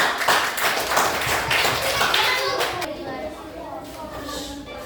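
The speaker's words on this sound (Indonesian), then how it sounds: "Berikan tepuk tangan." Classroom audience clapping after a student group's presentation, a scattered burst of hand claps over the first few seconds that thins out, with children's voices and shuffling underneath.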